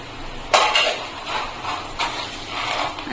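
Roasted coconut powder and nuts are tipped into a cooking pot for a sweet flattened-rice pilau, giving a few soft clinks and scrapes of a utensil on metal, with a sharper knock at the start, close and fairly quiet.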